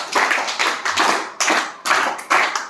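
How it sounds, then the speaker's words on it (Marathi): A small group of school listeners claps for a student, giving a short burst of close hand claps in several uneven waves. "आपण टाळ्या वाजवूया तिच्यासाठी"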